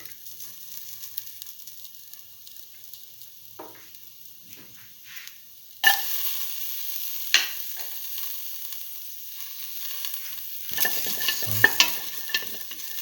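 Garlic stirred in a hot pan while cooking beef cucumber rice. A faint, quiet stretch gives way to a louder, close sizzle with occasional sharp scrapes and clicks of the spoon. No one speaks.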